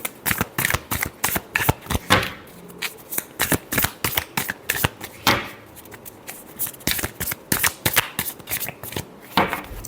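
Tarot cards are shuffled by hand in repeated quick bursts of crisp riffling and slapping, close and loud, with short pauses between bursts and no talking.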